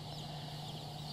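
Salmon Faverolle chickens, a French dual-purpose continental breed, cluck softly in a steady, continuous murmur with a low background hum.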